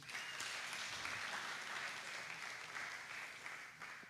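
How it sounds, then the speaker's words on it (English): An audience at a youth forum on the Sustainable Development Goals claps for a young speaker, a steady crowd applause heard from a distance that holds for about four seconds. "Let's clap for her again."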